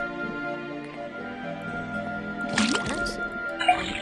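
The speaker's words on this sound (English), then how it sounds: "First thing we do is put the sample of liquid into the cauldron, then tap the faucet." Liquid pours and drips into a cauldron from a faucet in the Detective Grimoire video game, a soft bubbly trickle of splashes over a steady ambient game music bed, fairly quiet and close.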